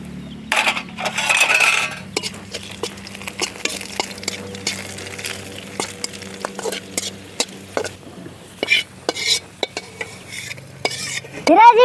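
Cashews and raisins fry in ghee for coconut payasam, stirred with a metal spoon that clinks and scrapes against the pan over a low, steady sizzle.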